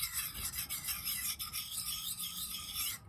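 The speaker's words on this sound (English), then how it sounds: "I will actually take one of these stones, or just a normal sharpening stone, and work this primary bevel" Sharpening stone laid flat and rubbed along the primary bevel of a TOPS Tom Brown Tracker T-1 knife, a steady continuous scraping rasp with repeated strokes, close and fairly loud, with no talking.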